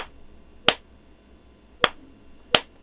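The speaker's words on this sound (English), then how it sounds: "Who's slow clapping at me? Clapping sounds came from behind." Three sharp, crisp slow claps in the video game Heart Cage, spaced out slowly and unevenly, close by, over a faint low background.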